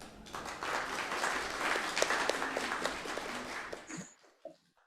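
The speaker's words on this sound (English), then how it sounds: "Please, let's welcome Mr. Jang Chan with a big round of applause." Audience members at a business forum in Phnom Penh give a welcoming round of applause for a speaker, moderate clapping that swells and then stops abruptly, leaving a few faint scattered noises afterward.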